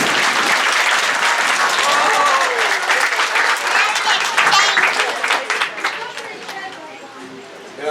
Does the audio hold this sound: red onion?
no